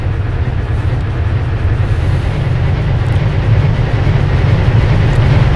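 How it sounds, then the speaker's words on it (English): A heavy steam train in the BR95 train simulator rolls past with a steady, loud low rumble and rhythmic rail clatter that builds slightly toward the end, with no voices. "let's pass the heavy train"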